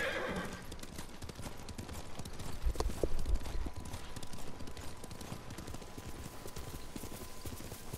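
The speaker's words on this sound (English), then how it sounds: "That's my horse." A horse in the video game Ghost of Tsushima trots with a steady clip-clop of hooves and gives a clear neigh partway through, heard alone at moderate volume.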